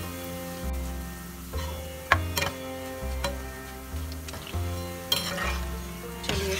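Vada pav vadas, battered with added rice flour, deep fry in oil with a quiet bubbling sizzle under a steady hum, punctuated by light metallic clinks and taps of a utensil in the pan.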